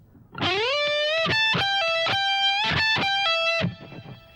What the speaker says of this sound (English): And now we're going to have a repetitive lick.